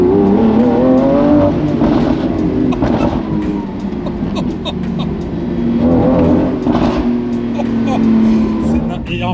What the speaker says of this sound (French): ce qui est vraiment bien avec Lamborghini, c'est que t'as pas besoin de rouler vite pour avoir un bruit de ouf